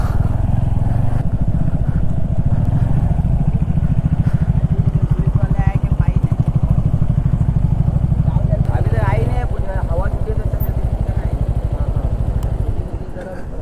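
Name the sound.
heavily loaded motorcycle riding on beach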